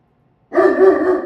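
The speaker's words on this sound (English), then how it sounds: "Listen, she's barking." A single close, loud dog bark, drawn out and slightly whiny, after a moment of silence.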